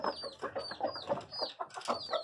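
A rooster calling a hen makes rapid, repeated low clucking calls in a steady rhythm, close by, with faint higher chirps mixed in.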